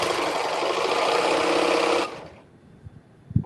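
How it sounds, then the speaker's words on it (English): A serger runs fast and loud, stitching the final edge of a caftan, then stops abruptly after about two seconds, leaving quiet with a few small knocks. "I think this is the last edge, and then we will have serged"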